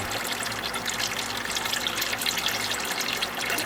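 Old engine oil drains from a rusted 1972 Corvette engine into a big jug, a steady close trickle and gush of liquid that runs unbroken throughout, with no voices.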